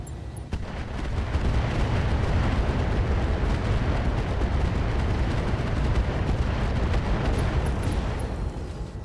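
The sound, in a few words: AX rounds fired at Highlander mech in video game RogueTech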